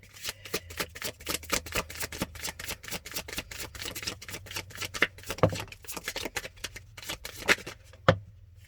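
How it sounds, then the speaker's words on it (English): Tarot cards shuffled close up in a rapid, steady riffle of crisp flicks for about eight seconds, ending with a couple of sharper snaps and no talking. "Can we get a card for what the situation is, please?"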